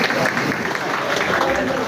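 Audience applause at a student felicitation ceremony in Andheri West: dense, steady clapping fills the whole stretch at a constant, fairly loud level, with voices mixed in underneath.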